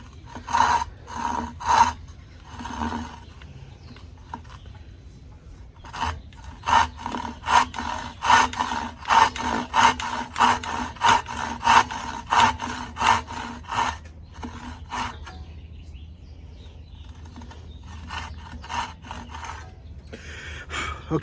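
Hand sawing through a pipe clamp along a marked line: a close, rhythmic rasp of repeated strokes in bursts, pausing briefly before a faster, steady run of cuts.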